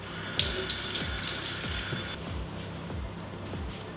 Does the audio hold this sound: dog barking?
no